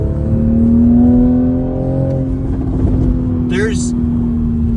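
A 2020 Toyota Supra, a wide-body sports car, drives through a canyon with a steady, close engine drone and a rise in revs, heard under someone talking.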